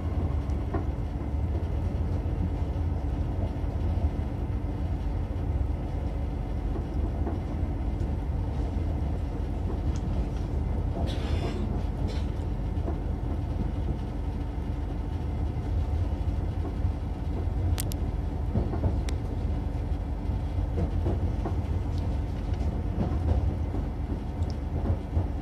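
A TER Normandie regional train, unit 852409, rolls slowly along the rails near Trouville-Deauville, giving a steady low rumble with a faint rattle from the carriage throughout and no talking.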